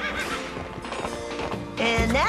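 A cartoon horse in the animated series Johnny Test whinnies loudly near the end, preceded by busy mixed sound and a voice in the background.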